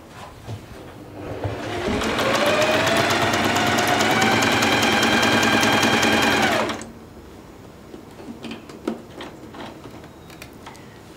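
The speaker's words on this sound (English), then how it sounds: "So now we're ready to start sewing." A sewing machine overcasts the edges of dress fabric in one continuous, close, loud whirring run of about five seconds, with its pitch climbing as it speeds up before stopping abruptly, followed by quiet handling sounds.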